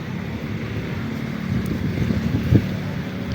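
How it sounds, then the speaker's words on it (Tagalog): Strong typhoon wind roars and buffets the microphone in a steady low rumble in a garden, with one sharper gust near the end; no one speaks. "Ayan, ang lakas ng hangin."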